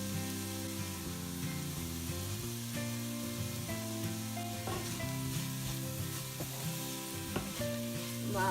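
Wet dried-shrimp bhaji with kokum, onion and oil bubbles and sizzles gently in a pan on the stove, a steady soft frying hiss with faint clinks and stirring, no voices.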